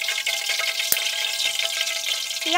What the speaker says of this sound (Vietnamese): Khô này mình chiên cũng mau vàng